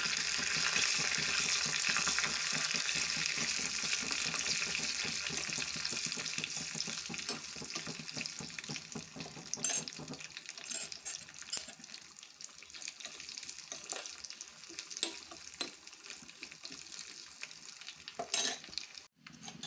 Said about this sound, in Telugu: పోపంతా బాగా వేగిద్దామండి